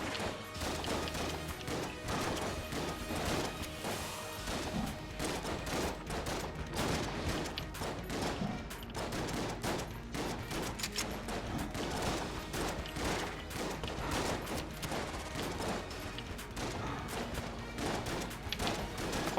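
Boss gunfire in the video game Enter the Gungeon: a dense, continuous barrage of rapid shots and crashing impacts filling the whole stretch at a steady, loud level with no pauses.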